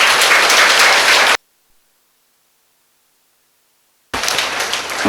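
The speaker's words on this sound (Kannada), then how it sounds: "ಎಲ್ಲರಿಗೂ ಒಂದು ಚಪ್ಪಾಳೆಯ ಧನ್ಯವಾದ ಹೇಳೋಣ" Loud audience applause at a gathering, dense clapping that breaks off into silence for several seconds, then resumes just as strongly at the end.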